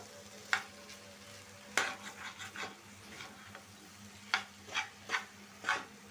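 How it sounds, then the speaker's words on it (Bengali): An egg is stirred into bottle gourd bhaji frying in a pan: a soft, quiet sizzle under a series of sharp scraping spatula strokes in irregular bursts, with no talking. "এই যে এখন ডিমটা আমি ভালো করে বাজির সাথে মিশিয়ে নিব বটবটির সাথে"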